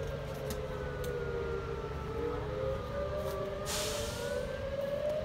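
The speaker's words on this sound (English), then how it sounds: "I don't know if you guys can hear them sirens." Wailing sirens rise and fall in the distance, several overlapping tones sweeping slowly over a steady background rumble.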